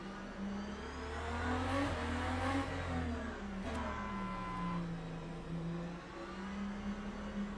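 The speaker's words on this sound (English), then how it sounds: "This car is a V12 hybrid. Yes, it's a V12 hybrid. It sounds incredible." A V12 hybrid race car engine in a sim racing game runs in the pits, a steady buzzing drone that rises and falls in pitch as it revs, with no talk over it.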